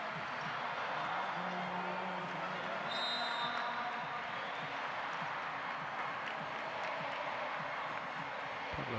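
Arena crowd at a men's international volleyball match between Bulgaria and Argentina, a continuous roar of cheering and clapping with faint whistles and squeaks cutting through, heard from a distance under the din.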